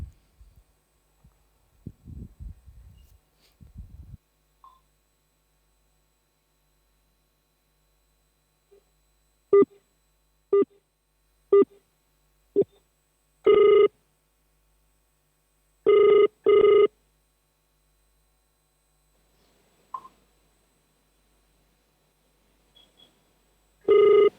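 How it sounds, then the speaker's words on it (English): A phone call connects twice in comparison, first over a circuit-switched line and then over VoLTE, with faint dial taps followed by evenly spaced ringback tones, the ringing pulses arriving at different delays in a quiet setting. "a very quick video comparing the call completion times between a regular phone call placed over a circuit-switched line and a VoLTE call"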